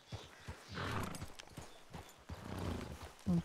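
Horses in a western hunting video game clop steadily over the ground, with a few neighs mixed among the hoofbeats, moderately close and at a fairly even level.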